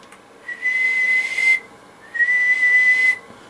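A steady high whistling tone from a Blackcat JB-76B (JB-200B) radio sounds twice, each about a second long with a brief gap between, over faint background hiss.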